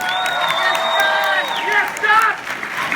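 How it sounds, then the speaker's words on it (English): A comedy club audience at Last Comic Standing cheers and applauds the comedians, with sustained whoops and yells over broadband clapping, steady and fairly loud throughout. "how about a big round of applause for all the comedians who performed?"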